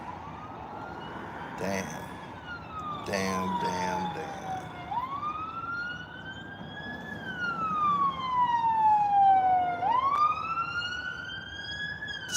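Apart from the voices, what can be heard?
ambulance siren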